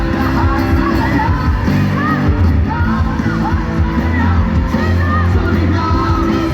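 A big indoor crowd at a live worship concert in an astrodome shouts and cheers continuously, a dense, loud wall of voices with scattered yells rising above it and no pause throughout.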